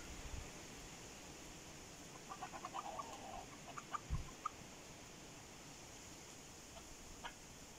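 Purebred chickens at a village house, with a few soft clucks and short calls in the middle, faint and somewhat distant over steady outdoor background noise.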